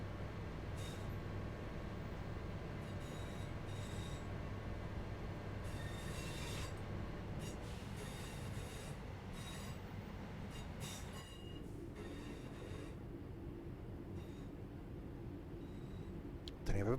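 Train running on the Birmingham Cross City line in Train Sim World 3, a continuous rolling rumble with a steady hum, wheel clatter and squeal bursts, and a short loud clunk at the very end.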